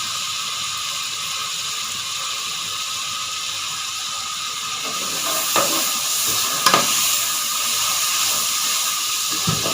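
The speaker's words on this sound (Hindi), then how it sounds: "चावल मैंने भूनने के लिए रख दिया। इसमें तमाम मसाला जात जाएंगे।" Rice frying in a pan with spices for kadhi chawal, a loud, steady hiss and sizzle throughout, growing a little busier midway with faint scraping clicks as it is moved about.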